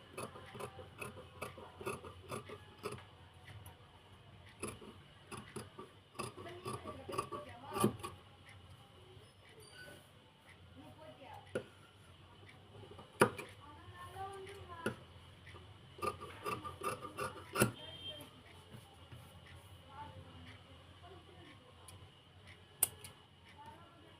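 Scissors snip through blouse fabric during tailoring of a size 52 blouse, giving faint, irregular rasping cuts and small ticks under quiet background, with some soft talk.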